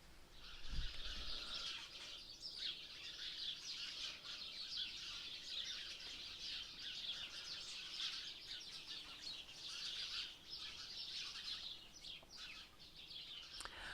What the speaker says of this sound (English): The birds are just coming into roost in the huge tree just here.